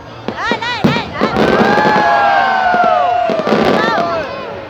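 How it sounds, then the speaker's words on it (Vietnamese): A fireworks display in Hai Duong, Vietnam, fills the air with repeated loud bangs and crackles, then a long sustained whistling rocket. A lively crowd cheers and children's voices call out nearby throughout. "Đây là pháo. pháo hoa rồi, bóng điện."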